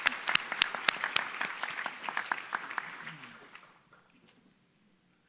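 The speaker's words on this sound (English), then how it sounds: "So let's give them some applause." At a civil society forum, an audience applauds panelists with distinct close claps that thin out and fade to near silence over a few seconds, with faint talk mixed in.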